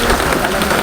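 A fishing boat's engine runs steadily, a continuous mid-low drone with a faint knocking texture, close and unbroken, heard alone without talk.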